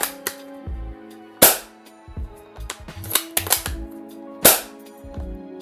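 An airsoft gun fitted with a Novritsch silencer fires a series of sharp, dry snapping shots. Isolated cracks are spread irregularly, with a quick cluster in the middle, over a quiet background.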